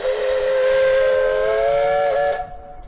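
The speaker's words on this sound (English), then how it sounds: "Is that a steam engine in there?" A steam engine's whistle sounds along the Llangollen canal, one long sustained tonal blast with a slight pitch bend near the end, fairly loud and steady, then cutting off abruptly into quiet.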